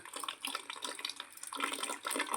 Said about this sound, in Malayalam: ഇതാ വെള്ളം വരുന്നുണ്ട് ക്യാനിലേക്ക് വെള്ളം വരുന്നത് നിങ്ങൾക്ക് കാണാനുണ്ടാവും